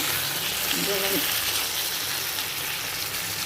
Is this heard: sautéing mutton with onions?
yes